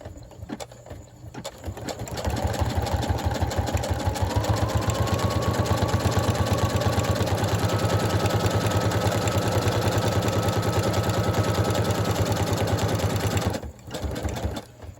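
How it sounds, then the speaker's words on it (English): A sewing machine stitches through paper in a fast, steady run of rhythmic mechanical clatter that lasts about eleven seconds, starting and stopping cleanly, with no talking over it. "now we're gonna stitch some more"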